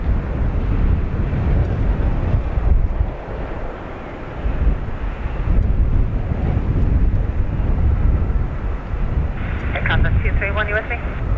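Air Transat airliner, flight TS231 to Toronto, taking off from Dublin Airport: a steady broad roar of jet engines with wind buffeting the microphone, dipping briefly then building again, with a faint voice near the end.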